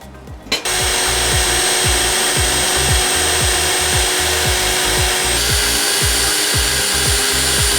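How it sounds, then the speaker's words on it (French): Drill boring into steel angle bars with an M5 tap drill bit, a loud continuous grinding whir with rhythmic pulsing, starting abruptly after a brief quiet moment, no talking. "nous allons percer à l'aide d'un forêt taraudeur M5"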